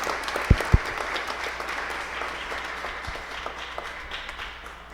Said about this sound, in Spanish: vamos a darles también un fuerte aplauso para agradecerles su presencia en esta tarde